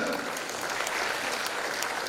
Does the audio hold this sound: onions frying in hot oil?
no